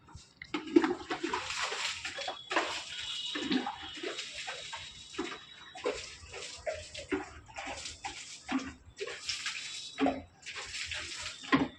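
Water splashes and runs in uneven bursts, close by, with a dog whimpering now and then over it.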